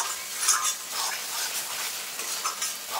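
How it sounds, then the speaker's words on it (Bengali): Spice masala with tomato and a little water sizzles in a pan while being stirred and sautéed, producing a continuous close hissing fry with soft rhythmic scraping strokes. "এবার মশলাটা ভালো করে কষিয়ে নেবো"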